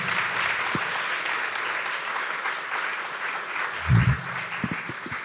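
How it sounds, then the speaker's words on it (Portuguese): Sustained applause from a forum audience on ESG and digital transition, a steady dense wash of clapping throughout with a brief low thump near the end. "Queria pedir mais uma forte salva de palmas,"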